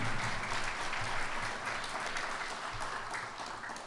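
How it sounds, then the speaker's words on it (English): An audience at a city State of the City address claps in a steady, fairly faint wash of applause that fades slightly toward the end, with no talking over it. "Can we give Dan another round of applause?"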